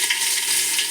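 Onion frying in hot coconut oil and ghee with cumin and curry leaves for Mangalorean chicken sukka, a close, steady, loud sizzling hiss without pause and with no voices.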